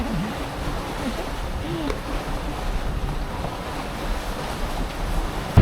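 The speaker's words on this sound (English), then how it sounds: "The wind has just picked up to 18 knots, so we are flying into the anchorage." A strong 18-knot wind rushes over a sailing boat off the coast of Turkey, buffeting the microphone amid steady water and wave noise under low rumbling gusts.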